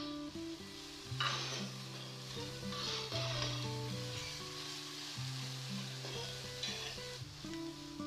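Chopped green chilies hit hot oil in a pan for mutton paya, giving a loud, continuous sizzle with stirring scrapes and clinks of a utensil against the pan, and no talking.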